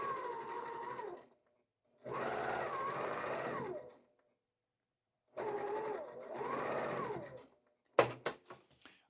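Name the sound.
sewing machine stitching quilt seams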